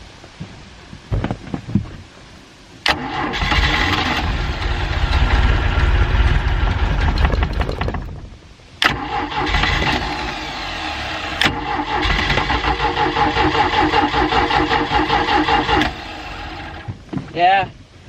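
A 3.0L MerCruiser boat engine cranks on a start-up attempt with two long whirring starter runs separated by a brief pause. Short clicks come before and after, and voices may be faintly present.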